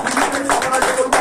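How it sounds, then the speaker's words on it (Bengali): Audience clapping at a devotional gathering as a guru is welcomed with flowers, a dense burst of hand claps with a voice talking over it. "তার জন্য একটা জোর করে হাততালি।"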